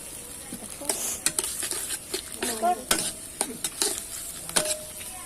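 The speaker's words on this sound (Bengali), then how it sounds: "ভালো করে পেঁয়াজগুলো কষিয়ে নিব" Onions sauté with ginger-garlic paste, salt, cumin and turmeric powder in a pan, a low sizzle broken by frequent scraping stirs and spatula knocks against the pot.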